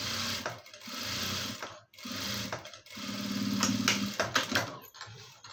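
A sewing machine stitches a blouse piece in short, loud bursts of fast mechanical whirring, separated by brief pauses as it stops and restarts, close up and without speech.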